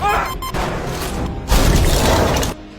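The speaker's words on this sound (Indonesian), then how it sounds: "Di kabin kehilangan tekanan udara, menyebabkan tangki oksigen meledak." In a Mars survival movie, an oxygen tank bursts as the cabin loses pressure, giving two heavy, loud blasts with crashing, rumbling debris.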